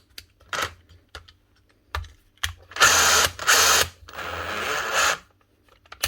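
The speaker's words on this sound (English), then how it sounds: "Turn in drill mode, but not in hammer mode." A power drill, a 2021 model under repair, whirs in drill mode in a few short bursts of varying length, loud and close, separated by quiet clicks and handling noises.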